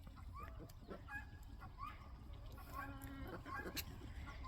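Backyard chickens cluck and chatter softly at close range in a quiet, steady flock murmur, with scattered short calls and some faint human talk mixed in.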